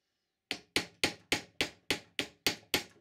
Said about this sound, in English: just tapping it with a hammer releases the Loctite